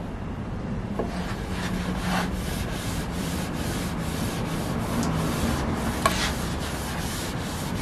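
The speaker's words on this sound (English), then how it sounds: "I have a brand new gray Scotch-Brite here." A brand new gray Scotch-Brite pad rubbed over rosewood veneer and inlay makes a continuous, close, rhythmic scrubbing swish with regular back-and-forth strokes and no voices.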